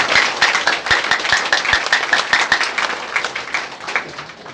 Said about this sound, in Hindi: तो इनके लिए एक बार जोरदार तालियों से स्वागत कीजिए